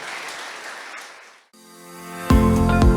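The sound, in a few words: congregation applauding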